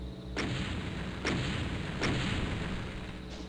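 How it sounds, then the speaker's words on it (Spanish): Cyberdemon in Doom 2 launching projectiles, three heavy booming blasts spaced roughly a second apart over a constant background rumble, loud and close. "Allá me están disparando, me está disparando el Cyber."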